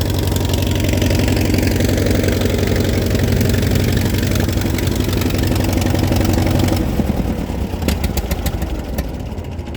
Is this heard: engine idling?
yes